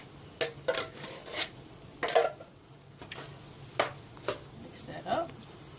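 Ground turkey with a large can of crushed tomatoes being stirred in a pot, giving a series of scraping, clinking utensil strokes at an irregular pace over a faint background hiss, with no talking.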